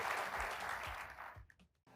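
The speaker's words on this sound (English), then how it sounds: "Can I get a round of applause for our panelists?" Audience applause for the panelists at a Texas Blockchain Council summit session on Bitcoin mining and demand response, a steady wash of clapping that fades out after about a second and a half, with a few low thumps.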